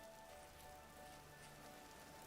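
Rain falling in a video game, a soft, steady, even hiss of raindrops on surfaces at low volume, with no voices over it.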